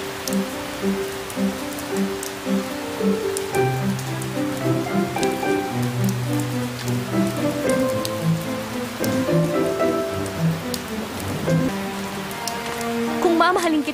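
Steady rain patters on surfaces in a film scene, a broad wash under a prominent melodic music score with repeated notes, continuous and fairly loud for the whole stretch.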